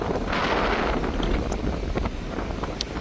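Strong gusting wind during a deadly flood, roaring steadily against the microphone with rushing water and rain beneath, loud and close throughout.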